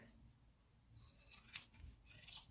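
Scissors snipping along the overhanging fleece backing of a mini patchwork quilt, a few quiet, close cuts that grow slightly busier toward the end, with no talking.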